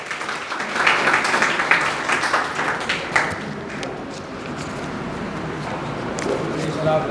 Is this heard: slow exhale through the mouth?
no